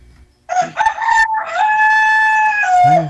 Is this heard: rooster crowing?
yes